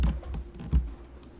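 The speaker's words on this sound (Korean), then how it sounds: "컨트롤 T 누릅니다." Keys are pressed on a computer keyboard for a Ctrl+T shortcut while working in Photoshop, with a few close, soft clicks spaced out over a quiet moment and no talk.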